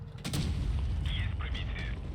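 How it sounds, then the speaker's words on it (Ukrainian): Shells fired by the SU-101 tank destroyer in World of Tanks Blitz, a sharp close boom followed by mechanical clanks and rumbling engine noise, with some talking mixed in. "снаряди полетіли вже"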